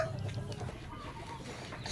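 A hen or rooster with a twisted neck clucks softly and intermittently over steady low background noise, with no talking.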